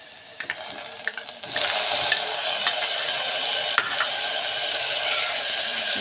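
Chopped tomatoes stirred with fried onions in a pan: a few scraping clicks, then a loud, close sizzle that rises suddenly and holds steady, dotted with utensil taps.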